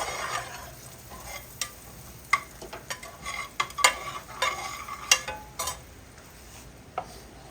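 Whipping cream bubbles and thickens in a pan, with soft sizzling and irregular sharp pops and spatters. Occasional utensil ticks are heard, and there is no talking.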